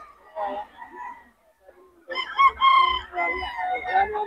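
A rooster crows twice, loud and close, the second call longer and stronger, with a gap of near silence between.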